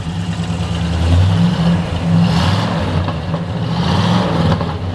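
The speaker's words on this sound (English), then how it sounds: "Got dual exhaust all the way out the back, so it's got a nice little sound to it." A 1967 Pontiac Grand Prix V8 with dual exhaust runs close by, its deep engine rumble swelling and easing in a couple of revs, loud and alone.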